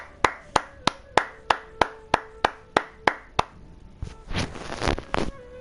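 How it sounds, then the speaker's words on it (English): About a dozen sharp hand claps in a steady, even rhythm, followed by a short burst of louder, noisier clapping and rustle. "I'll give a brief round of applause"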